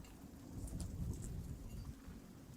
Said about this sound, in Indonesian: sekarang kan kondisinya sedang gerimis dan full berkabut teman-teman